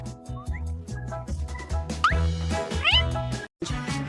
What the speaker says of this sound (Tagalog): Ang cute na kuting!